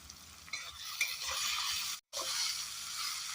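Tomatoes salted in a pan frying with a steady broad sizzle, stirred now and then, with a brief silent gap midway; no talk.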